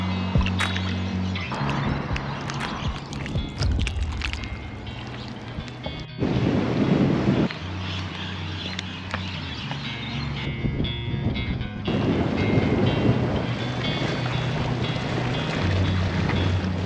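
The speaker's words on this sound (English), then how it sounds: "from a very windy foreshores" Strong wind buffets the microphone on a very windy foreshore, a steady loud roar with gusty swells and surges throughout, close and continuous with no talk.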